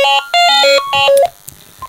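A telephone rings with an incoming call to a live radio-style show, a loud, close electronic ringtone melody of several bright stepped tones that stops abruptly, followed by faint clicks.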